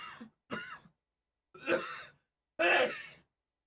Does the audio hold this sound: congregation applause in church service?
no